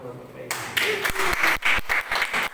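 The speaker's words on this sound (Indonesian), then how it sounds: "Tepuk tangan buat Bapak Ibu." Audience clapping at a gold coin company regional office gathering in South Sulawesi, a burst of applause starting after a brief lull and continuing unevenly, mixed with voices.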